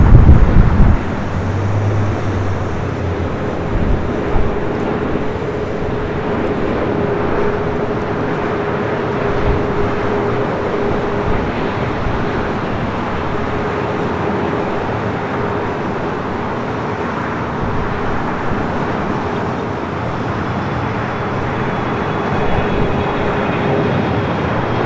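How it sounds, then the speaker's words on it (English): An Alitalia-liveried Airbus A350 arriving from Rome at LAX, a loud, broad steady roar of jet noise with wind rumble filling the whole stretch and no break in the sound. "A350 coming in from Rome. Your next heavy arrival there."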